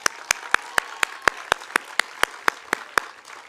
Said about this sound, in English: one more round of applause for your family and friends